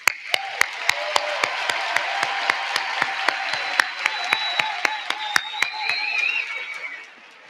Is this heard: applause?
yes